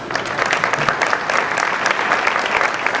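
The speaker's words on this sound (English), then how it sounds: "May I ask you to hold your applause for the rest of the distinguished guests" Guests at a Toronto award gala break into brisk applause after an introduction of a dignitary, a short, loud burst of many hands clapping close together with no speech over it.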